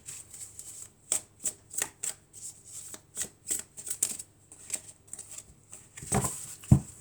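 A deck of oracle cards is shuffled and cut by hand, close-up, giving a run of soft riffling flicks and irregular taps, with a louder slap of cards near the end.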